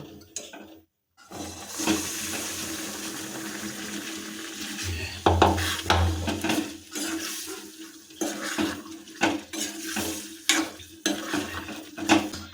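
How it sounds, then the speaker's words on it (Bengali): Egg tadka is stirred in a kadai (wok): after a brief hush, irregular scraping and clattering bursts of the spoon against the pan sound close and fairly loud over a low frying hiss. "এটাকে ভালোভাবে এখন কড়াইতে নাড়িয়ে দেবো।"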